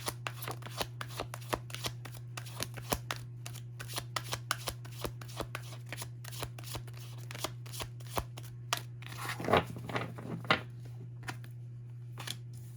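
Tarot cards being shuffled by hand, a long run of crisp, evenly spaced flicks and riffles over a steady low hum, fairly faint and close, with a brief busier flurry near the end.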